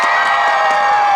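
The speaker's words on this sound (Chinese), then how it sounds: "给自己掌声加再尖叫声" A concert crowd at an outdoor beach music festival in Zhubei, Taiwan, screams and cheers loudly and continuously, with scattered applause mixed into the roar for just over a second.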